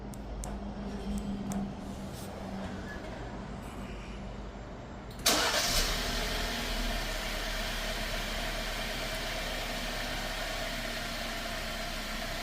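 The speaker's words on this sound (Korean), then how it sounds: "매지카 D3 제품은 순정 리모컨으로 원격 시동이 가능합니다." A 2021 Jeep Wrangler engine is started remotely through a Magica D3 alarm, with a sudden crank and catch followed by a steady idle.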